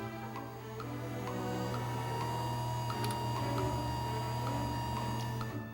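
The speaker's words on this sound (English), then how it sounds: "I want to show you now how quiet the new Martin DC3700 opener is." A belt-drive garage door opener, a 2001 Martin DC3700, gives a low, steady motor hum with faint ticks and soft mechanical clicking, quiet and continuous throughout.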